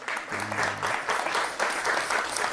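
An audience at a televised stage show breaks into steady, fairly loud applause that holds through the whole stretch, with no voices standing out.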